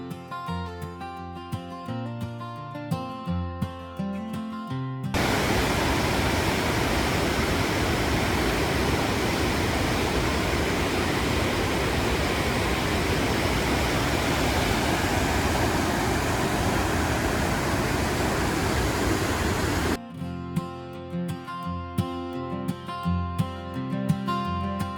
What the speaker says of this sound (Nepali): सेती नदी बढेर आएको